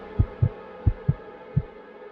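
Heartbeat sound effect from an animated horror story: five deep, low thumps in a steady pulse, close and clear over a soft background hum, with no voices.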